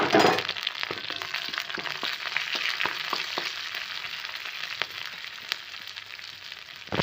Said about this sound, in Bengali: এতে কালো জিরা ফোড়ন দিলাম তাতে কাঁচা লঙ্কা দিলাম